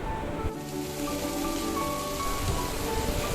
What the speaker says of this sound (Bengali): এবার ওই বাকি তেলের মধ্যে কচুগুলো দিয়ে তার মধ্যে দিয়ে দেব অল্প নুন ও হলুদ।